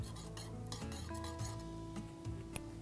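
A spoon clinks and scrapes inside a cup as sugar is stirred into masala chai, a few quick metallic taps over a soft background hiss, faint and close.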